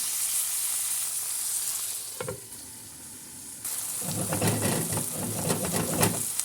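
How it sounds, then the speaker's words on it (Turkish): Tomatoes and peppers cook on a stovetop in a covered pan, giving a soft, steady sizzle that briefly dips and then returns with brighter crackling bubbling. "Tekrardan domatesler yumuşayıncaya kadar üzerini kapatıp ocakta bekletiyorum."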